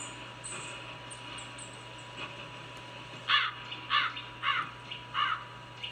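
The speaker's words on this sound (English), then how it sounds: "That's a crow." A crow in the video game Finding Bigfoot gives four loud, harsh caws in a steady rhythm in the second half, over a constant low electrical hum and a few faint chirps earlier.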